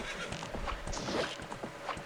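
Quiet horse hooves clip-clopping in the video game Zelda Ocarina of Time, a soft rhythmic trot with faint game sounds, no voices over it.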